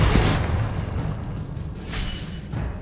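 A Confringo blasting spell in Hogwarts Legacy goes off as a sudden deep boom that rolls away over a couple of seconds, with softer thumps and crackles trailing behind.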